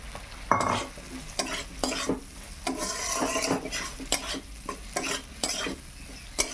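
Taro pieces stir-fried with spices in a pan, a spatula scraping and clattering against the metal in repeated strokes over a steady close sizzle, with no talking.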